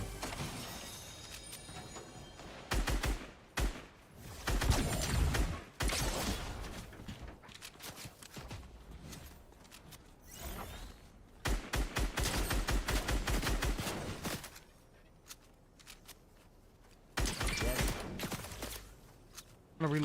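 Fortnite gunfire crackles in repeated rapid bursts of shots, loud and close, separated by short pauses, with footsteps and impacts in between.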